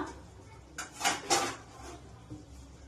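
Plates and dishes clink and clatter at home while mudde is being served, a short cluster of bright knocks in the middle, moderately close over a quiet room.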